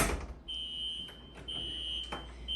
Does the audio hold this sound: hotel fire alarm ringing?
yes